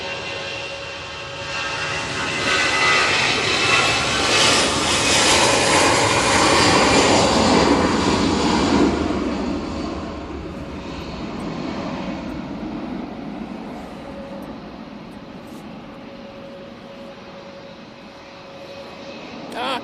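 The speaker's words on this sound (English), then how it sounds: "Aer Lingus A320 now returning to Dublin." An Aer Lingus Airbus A320 jet passes at Manchester Airport on a windy day. Its engines swell to a loud roaring rush and then fade slowly into the distance, with no talk.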